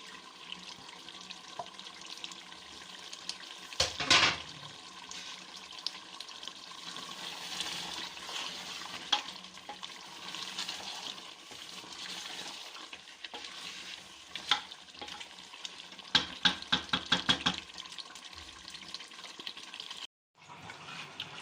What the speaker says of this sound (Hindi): अब हम वो इसमें डाल के उसको मिक्स कर देंगे